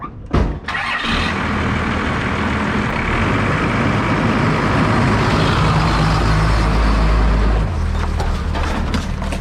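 A 1st Gen Cummins diesel truck hauling a light trailer on the road, its engine a loud, steady drone with a brief rev near the start and an even roar sustained throughout.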